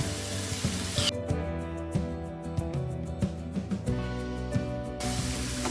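Onions frying in a pan with crushed ginger and a few garlic cloves for a clam fry, a steady close sizzle with faint stirring scrapes and no talk.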